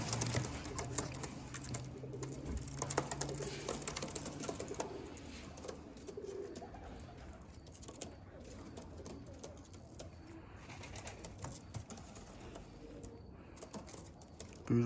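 Imported tippler pigeons coo softly and repeatedly under a steady wash of background noise, with faint rustling and occasional low murmurs throughout.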